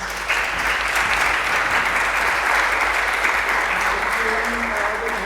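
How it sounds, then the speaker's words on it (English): A workshop audience breaks into applause, steady many-handed clapping that carries evenly throughout, with a low background hum and a faint voice beneath near the end. "Big round of applause."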